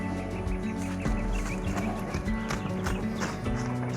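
Horse at a horse shelter, hooves clip-clopping and shifting with a possible soft whinny, set against steady background noise and faint talk.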